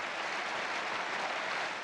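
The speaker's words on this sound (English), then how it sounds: "The crowd's still applauding" A tennis crowd at a French Federation match applauds steadily, a dense wash of many hands clapping without pause, fairly loud and close, with no talk over it.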